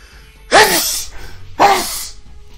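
Two loud, close sneezes about a second apart, with quiet room noise between them.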